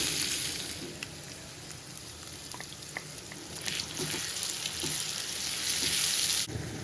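Cumin and onion sizzle steadily in hot oil in a home kitchen pan, a close, continuous frying hiss with small pops and occasional stirring scrapes.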